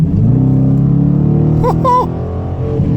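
A 2019 Dodge Challenger R/T accelerating hard, its engine note a loud, close, rising rumble that holds steady, with a brief shift-like change partway through before pulling on.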